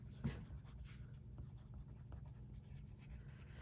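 A color pencil scratches across paper while a name is written, a quiet, close run of small strokes with one brief louder scrape near the start over a low steady background hum.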